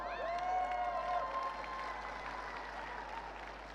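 Audience clapping at a large crypto currency conference event, a steady wash of applause with a sustained tonal hum or music note running underneath, gradually easing toward the end.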